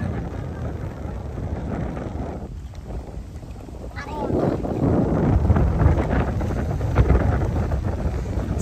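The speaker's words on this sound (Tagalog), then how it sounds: "Sobrang lakas ng hangin." Strong wind roars and buffets outdoors, rising louder in the second half with low rumbling gusts.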